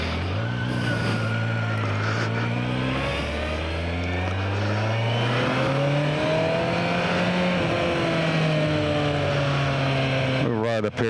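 A Kawasaki Versys 1000 motorcycle pulls away and accelerates, its engine note rising and falling through the gears with a steady rumble and wind rush close to the rider's helmet.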